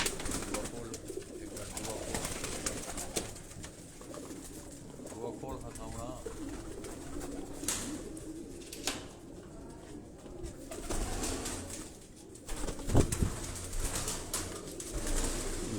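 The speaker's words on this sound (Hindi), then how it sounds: "ये कबूतर भी सारे उस्ताद शबीर शाह लेबर वाले के घर के कबूतर हैं।" Pigeons coo softly and repeatedly inside a loft, with occasional wing flaps and scattered bird noises over a low background and a few sharp knocks.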